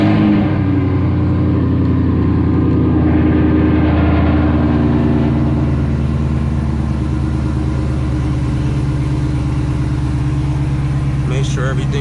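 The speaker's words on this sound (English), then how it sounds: "Let's turn the car on." A 2021 Chevrolet Camaro SS starts and runs on after an oil change, a loud, close engine rumble that settles into a steady idle under some talking.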